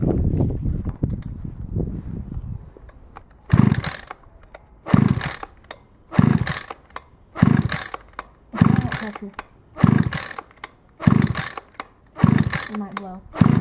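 A Stihl FS86 string trimmer engine without primer gets pulled again and again: eight rhythmic rasping recoil-starter pulls, each a loud close whirr, none catching, with a voice speaking at the start.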